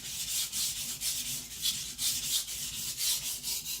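A custom Patrik Carlvik nakiri knife is sharpened close up in a steady series of about eight short, hissing strokes with an even rhythm, and no one speaks.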